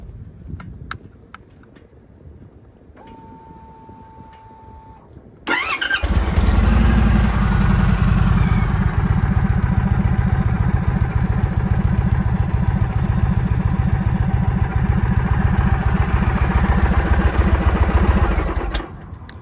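An Indian Chief Bobber motorcycle on its stock exhaust starts up and settles into a steady, fairly subdued idle, a low, even rumble that holds for over ten seconds after a quiet lead-in.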